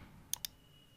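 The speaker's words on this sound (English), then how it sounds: "then click on reset." Two quick, sharp mouse clicks about a tenth of a second apart, selecting the Reset button for the TradingView app in Windows settings on a PC, close and distinct over a quiet background hiss.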